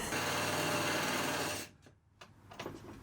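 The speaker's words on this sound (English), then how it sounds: "we have successfully drilled through the screw" A power drill bores through a broken-off screw doused in Jigaloo lubricant during a van build, a steady high whine for about a second and a half before cutting off, followed by faint clicks and handling noise.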